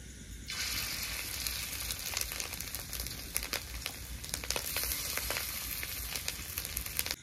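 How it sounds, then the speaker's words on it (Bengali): Fish roe fritters frying one by one in hot oil, a loud, continuous crackling sizzle that bursts in abruptly and keeps popping steadily throughout, close to the pan. "এবার বাকি বড়াগুলো একটা একটা করে ভেজে নেব।"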